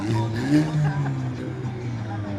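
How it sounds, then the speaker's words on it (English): Cars in a lighted Christmas night parade in Midland rev their engines as they roll past, a rising and falling engine drone at moderate distance mixed with crowd noise and nearby talk. "You hear them revving it up."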